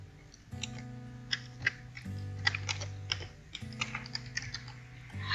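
Typing the word snipping into the Windows Start menu search bar on a computer keyboard, a short run of light key clicks over a low electrical hum, with no one talking.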